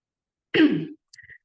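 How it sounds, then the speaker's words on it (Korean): One harsh cough or throat-clear, followed by a few faint, quick little sounds, with no talking. "제가 약간 기침이 나와가지고"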